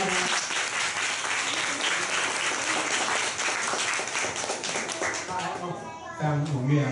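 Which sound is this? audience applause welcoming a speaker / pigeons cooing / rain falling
audience applause welcoming a speaker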